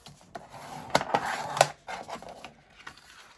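Folded paper envelope pressed flat with a burnishing tool, short scraping rubs and taps close up, a few sharper strokes in the middle, quiet and without talk.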